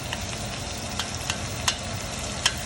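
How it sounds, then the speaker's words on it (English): Tomato paste cooking in a pan for a braised short rib sauce gives a steady, close sizzle with a few sharp clicks and pops scattered through. "when you add tomato paste, you really need to make sure you cook it."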